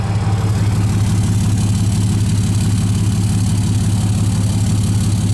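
Exhaust of a 2007 Dodge Ram 3500 SLT with a 6.7 Cummins diesel idling, a loud, steady, low rhythmic rumble close by, continuous and alone with no talk.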